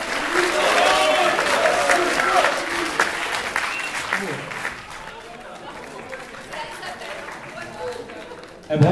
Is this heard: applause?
yes